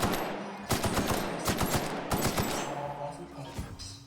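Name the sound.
gunfire in the video game The Outer Worlds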